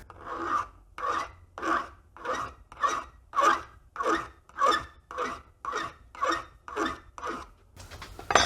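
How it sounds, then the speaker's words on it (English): A hand file sharpens the edge of a paint scraper in slow, even rasping strokes, about a dozen regular scrapes close up, each rising and fading in turn. "Let's try sharpening it."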